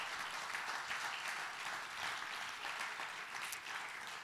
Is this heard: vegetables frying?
no